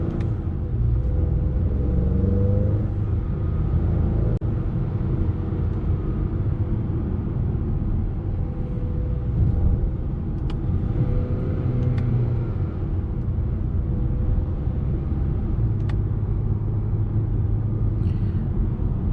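A 2021 Acura TLX with a 2.0-liter turbocharged engine drives along, producing a steady low engine rumble mixed with road and tire noise that holds constant throughout without distinct revving peaks.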